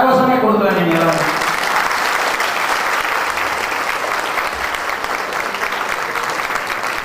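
An audience at a ceremony honouring a swami breaks into loud, sustained applause, dense hand-clapping filling the room for several seconds after a brief tonal cue at the start.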